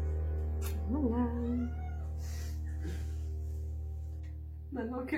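A cat meows a few times, a drawn-out wavering cry early and another short one at the end, moderately close over a steady low hum in a room.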